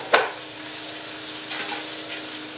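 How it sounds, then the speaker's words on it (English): Chuck roast browning in a pan sprayed with cooking spray, a steady close sizzle with a sharp crackling spurt near the start and a smaller flare-up later. "this is browning on the other side"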